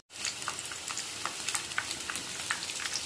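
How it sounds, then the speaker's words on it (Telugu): Sweetcorn kebabs frying in oil over a medium flame, starting abruptly into a dense, steady crackling sizzle with frequent small pops, moderately loud and close, no speech. "మీడియం ఫ్లేమ్ లో గోల్డెన్ బ్రౌన్ వచ్చే వరకు మనకు వేయించుకుందాం మన కబాబ్స్"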